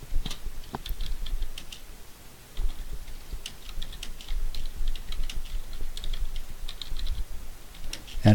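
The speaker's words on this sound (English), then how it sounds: "I'm going to type a little information about it right here" Fingers type on a computer keyboard in quick, light clicks, an uneven patter of keystrokes with brief pauses, close and moderately quiet over faint room noise.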